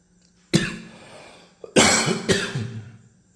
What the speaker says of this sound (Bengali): তাই কাশি হচ্ছে আমার।